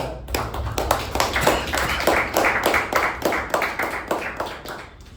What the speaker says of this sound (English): Let's give a round of applause to our President